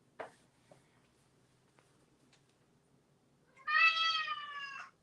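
A cat lets out one loud, drawn-out, complaining meow close by after a few faint taps and clicks in an otherwise quiet indoor room.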